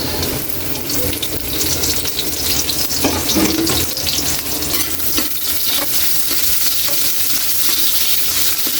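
Sliced onions hit hot oil with already-browned garlic for sinarsahang atay (liver), producing a loud, continuous, crackling sizzle with irregular stirring clatter close by and no talking.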